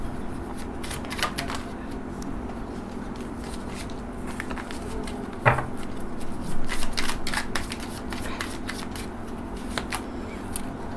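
Tarot cards shuffled and drawn by hand for a reading, a long run of quick riffling, flicking and sliding card sounds, close and fairly even, with one sharper snap partway through.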